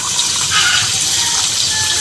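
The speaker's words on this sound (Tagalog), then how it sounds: "Tubig." Water pours steadily into a cooking pot for pancit broth made with sardine liquid, a continuous close gushing splash at a constant level with no talking.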